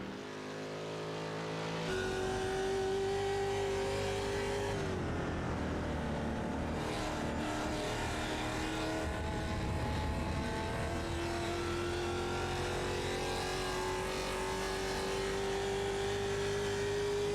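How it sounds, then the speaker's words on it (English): A Ford Mustang race car on a flying lap around Summit Point in the American Muscle Series, its engine heard loud and close from on board, revving and climbing through gears with a steady roar and pitch shifts on the shifts. "listen to that Mustang sing"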